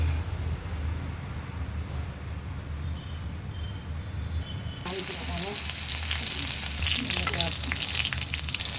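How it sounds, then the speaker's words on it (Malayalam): Mustard seeds sputter in a small amount of hot oil left over from sautéing: a low, murmuring background suddenly bursts into loud, close crackling and popping that keeps going with sharp snaps. "കുറച്ച് കടുവിട്ട് അത് പൊട്ടിട്ട്"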